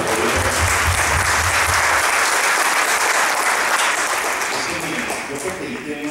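A panel audience applauding loudly and continuously for about six seconds, dense clapping that tapers slightly toward the end.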